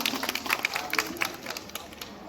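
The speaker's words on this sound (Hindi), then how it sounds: "एक बार स्नेहा के लिए भी तालियां बजा दो" A small audience at a 12th class result celebration claps for a student, with sparse, uneven handclaps at moderate loudness over a faint murmur of voices.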